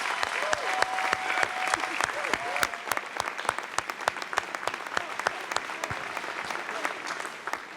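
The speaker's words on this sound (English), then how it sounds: "Please give me, or join me in applauding." A ceremony audience applauds steadily and loudly for the whole stretch, a dense wash of hand claps with a few sharper individual claps standing out and a faint tonal whistle-like sound threaded in.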